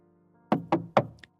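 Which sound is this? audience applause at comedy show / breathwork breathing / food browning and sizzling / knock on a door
knock on a door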